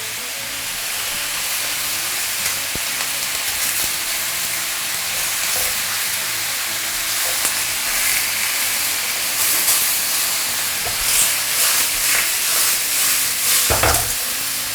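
Fish frying in oil in a wok, a continuous loud sizzle and hiss with occasional scraping and stirring knocks, close up and without talk.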